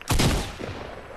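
Gunfire rings out in a solo match of a shooter video game, a loud, close burst of rapid shots that fades into a short ringing tail.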